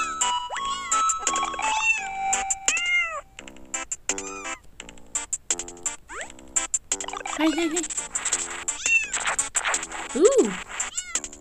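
Cat meowing in the video game Super Cat Tales II: repeated bright, sliding meows and short chirps come thick and fast, with a brief spoken word mixed in.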